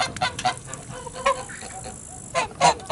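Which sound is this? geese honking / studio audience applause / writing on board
geese honking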